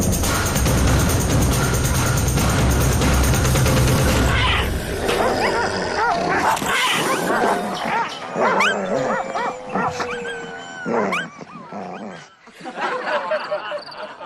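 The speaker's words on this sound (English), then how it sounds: "Starved and goaded by sadistic hunters, the dogs hunger for blood." Several hunting dogs bark and yelp excitedly in bursts, following a few seconds of loud, dense rumbling noise.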